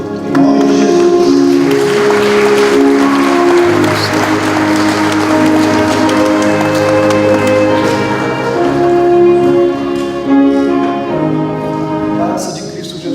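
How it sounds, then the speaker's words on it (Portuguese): A church congregation applauds after a baptism: steady, full clapping that fills the room for the whole stretch, with sustained musical tones ringing underneath. "Vamos aplaudir em nome de Jesus."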